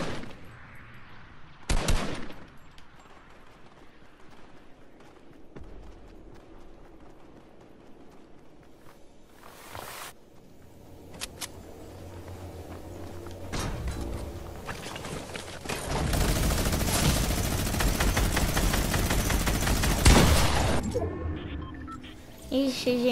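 Rifle gunfire in a shooting video game: isolated sharp cracks early on, then a dense, loud burst of rapid shots and impacts that carries through the final third over a low game background.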